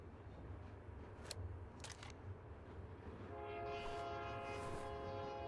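Train running in the video game Murder in the Alps, a steady low rumble of the moving carriage with a few brief clanks, then a sustained tonal horn-like whine rising over the din near the end.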